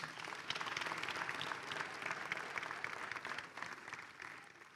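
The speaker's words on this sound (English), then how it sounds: "Another round of applause" A crowd at the launch of a rural education research centre applauds the Platefontein Youth Group, giving a steady, fairly faint wash of many hands clapping from a distance with no voices.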